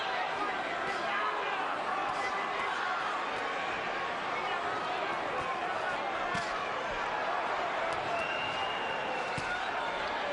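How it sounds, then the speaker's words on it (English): An arena crowd roars throughout a boxing bout between Arturo Gatti and Micky Ward, a thick, sustained wall of cheering with sharp punch-like thuds and a commentator talking over it. "Crowd gets back into it"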